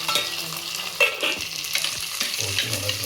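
Onion, green chilli and curry leaves sautéing in a hot pan, with a continuous sizzle and fry broken by scraping and stirring of a spoon, close and loud, with no talking.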